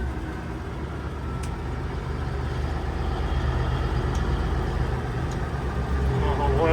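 A Peterbilt 359 truck with a big blue hood and air-ride suspension rolls along, its steady low engine rumble and road noise filling the cab, building slightly louder over the stretch with no talk.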